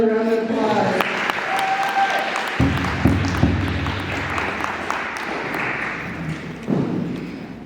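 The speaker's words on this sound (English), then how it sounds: "Let's give her another round of applause" A crowd at an awards ceremony gives a speaker another round of applause, sustained clapping with a few thuds and a tonal sound at the start, a voice briefly heard over it.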